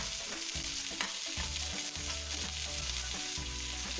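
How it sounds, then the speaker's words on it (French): Vegetables for a cabbage soup frying and browning in a pan, a steady close sizzle with soft crackles and stirring scrapes throughout, no talking. "Nous allons maintenant mettre les légumes aussi à colorer."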